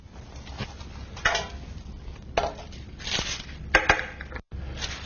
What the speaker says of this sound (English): You want to remove the pan from your springform pan, the bottom, and then the parchment that we put in earlier.